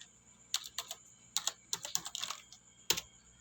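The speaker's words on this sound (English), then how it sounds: "So let's type in our student ID." Keys on a computer keyboard are tapped in short, uneven clusters to enter a student ID, the close, crisp clicks arriving in quick bursts over about three seconds, ending with one firmer keystroke.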